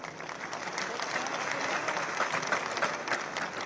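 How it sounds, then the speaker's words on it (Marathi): A crowd at a political rally in Thane applauds without a break, dense steady clapping that stays loud and even throughout. "किती टाळ्या पडल्या पहा."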